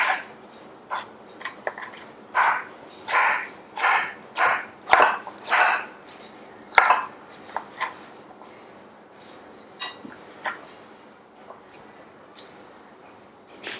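Knife chopping cucumbers on a cutting board, a quick run of about a dozen rhythmic, close thuds that slows and thins into a few scattered cuts, with no talking.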